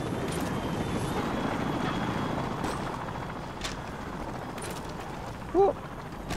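Helicopter rotor drone in Modern Warfare 2 multiplayer on the Favela map, a steady low chopping rumble held throughout under game noise, with a few brief impacts and a short louder tone near the end.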